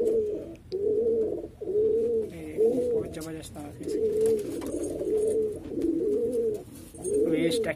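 Lal Jeere breed pigeons coo in repeated low, throaty rolling phrases at a fairly close range, with someone speaking over them intermittently.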